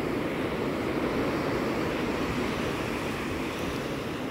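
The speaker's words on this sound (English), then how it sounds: "This is the Atlantic Ocean." Atlantic Ocean surf washes steadily onto the beach at St Augustine, Florida, a continuous broad roar of breaking waves mixed with wind noise, with no voices.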